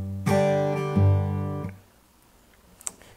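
An acoustic guitar plays a song intro, a few strummed chords that ring out and fade, alone and close, ending with a faint pick noise.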